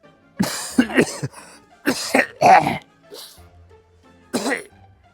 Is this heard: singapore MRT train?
no